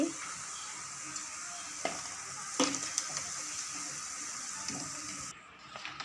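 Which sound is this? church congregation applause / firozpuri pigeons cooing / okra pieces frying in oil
okra pieces frying in oil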